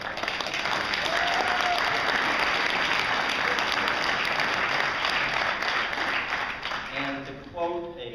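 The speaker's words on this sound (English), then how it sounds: "So, I think a little applause there." Audience applause at a retirement award ceremony: sustained, even clapping from a sizable crowd that thins toward the end as a voice starts speaking.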